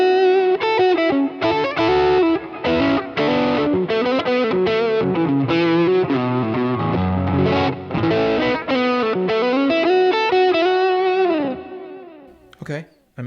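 An electric guitar, one of a $1500 Trump model and a $350 import, plays chords and riffs through heavy distortion; the tone is continuous and loud and cuts off at the end.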